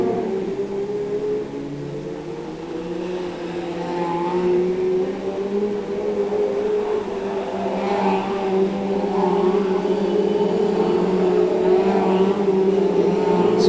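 Brisca F2 stock cars racing at Cowdenbeath Racewall, a loud continuous drone of several engines that builds and swells as the cars circle the oval, with no commentary over it.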